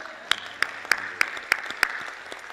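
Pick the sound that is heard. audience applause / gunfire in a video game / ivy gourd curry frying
audience applause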